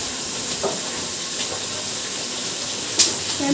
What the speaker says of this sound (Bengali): কাঁচা লঙ্কাটা কাটা হয়নি ভুলে গেছিলাম তো চলো এটাকে ভালো করে ভেজে নিই